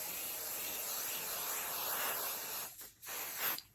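Spray adhesive hisses steadily onto fabric and batting for a baby blanket, one continuous close burst that cuts off briefly near the end and then resumes in a short final puff.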